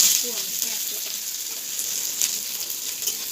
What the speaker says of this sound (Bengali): পেঁয়াজটাকে হালকা ব্রাউন করে ভেজে নেব